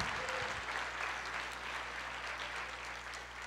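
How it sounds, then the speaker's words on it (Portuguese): A congregation claps together at a Pentecost church service, a steady wash of applause over a low hum, fairly distant and moderate in level throughout. "Vamos aplaudir o Senhor"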